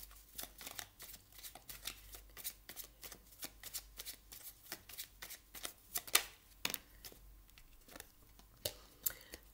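Tarot cards being shuffled by hand, a steady run of papery riffles and flicks over nearly ten seconds, close and clear with a low hum underneath and no speech.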